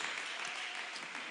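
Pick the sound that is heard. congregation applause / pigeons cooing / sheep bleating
congregation applause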